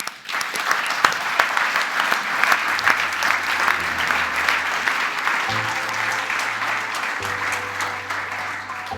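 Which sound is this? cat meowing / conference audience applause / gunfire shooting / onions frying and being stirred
conference audience applause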